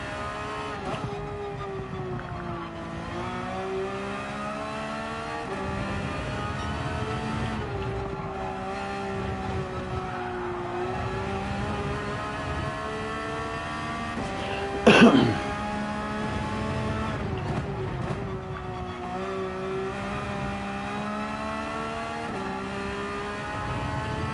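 Race car engine heard from inside the car, revving and falling in pitch through repeated gear changes while lapping a circuit, dropping to fourth on an uphill corner, loud and continuous with a brief sharp knock partway through.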